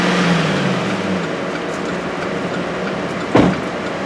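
A 2009 Chevy Silverado with a Stabilitrack fault, power loss and code 1516 revs its engine, a loud steady drone that slowly falls in pitch, then a brief sharp knock near the end.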